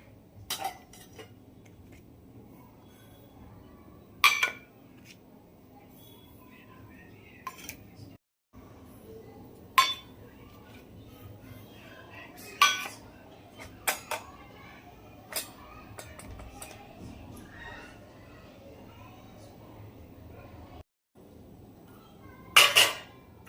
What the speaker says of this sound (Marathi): आता हे जे मसाले घेतलेत ते मी छान मिक्स करून घेते पेस्टमध्ये.